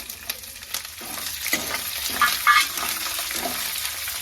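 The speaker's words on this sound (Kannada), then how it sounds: "ಇವಾಗ ಇದರೊಳಗಡೆ ನಾನು ಕರಿಬೇವು ಸೊಪ್ಪನ್ನ ಹಾಕೊಳ್ತಾ ಇದ್ದೀನಿ" Curry leaves and chillies crackle and sizzle in hot oil with peanuts and lentils for a chitranna tempering, a steady close fry broken by louder spits and a few light utensil clinks.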